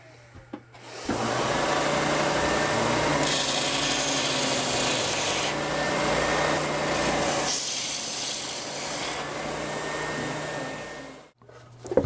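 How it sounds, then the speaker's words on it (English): A spindle sander works the edge of a routed wooden Tele-style guitar body, a loud abrasive grinding rub over motor hum that lasts about ten seconds, then stops as the motor winds down. "but we got a spindle sander."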